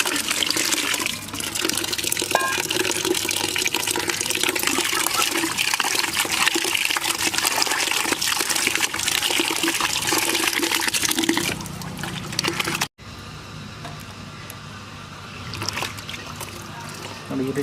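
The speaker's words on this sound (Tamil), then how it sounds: "இப்போ செகண்ட் டைம் வாஷ் பண்ணிக்கலாம்." Goat lungs being washed by hand in water, with continuous splashing and running-water sloshing close by that ends abruptly, followed by quieter handling noises and voices in the background.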